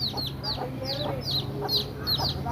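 A mother hen clucks softly while her chicks peep in high, rapid, repeated chirps, all close together over a low steady background hum.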